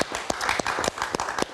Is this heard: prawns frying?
no